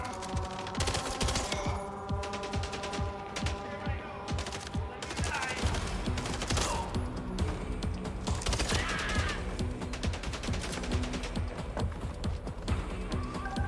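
Dense, sustained automatic gunfire from the PC video game MindsEye, with rapid overlapping bursts and volleys that continue throughout over a steady tonal game backdrop.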